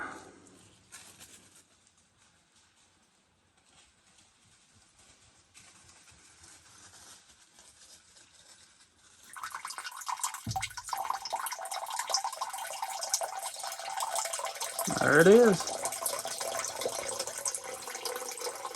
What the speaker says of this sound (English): You can see just how much water's coming out of the spring.